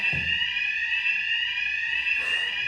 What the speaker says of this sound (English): it's a fucking fire alarm